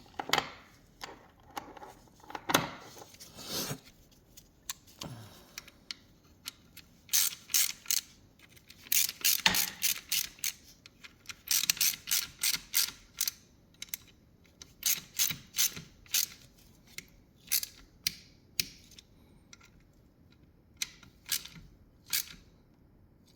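Ratchet clicking while tightening a part on a Kawasaki KX450F motocross bike during maintenance; bursts of rapid close clicks repeat in uneven runs with short pauses between strokes, alone without talk.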